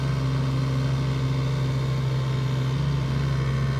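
A children's Hot Wheels ride-on toy Jeep runs with a steady, close electric motor hum that holds an even drone throughout.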